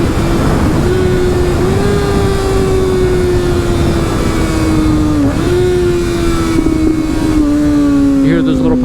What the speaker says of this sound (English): Let's see how it sounds with a couple of baby rev matches.